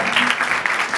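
A church congregation claps heartily after an evangelist's sermon, a dense wash of many hands beating together with no voices over it.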